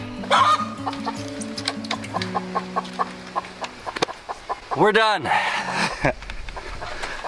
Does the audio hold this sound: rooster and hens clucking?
yes